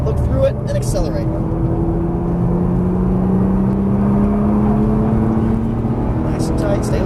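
A Nissan GT-R accelerating on a race track, heard from inside the car: a loud, steady engine drone whose tone climbs gradually as revs rise, constant throughout with brief noise bursts at the start and end.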